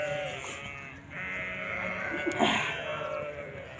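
Sheep bleating outdoors in a village, a few calls rising over steady background noise, moderately close.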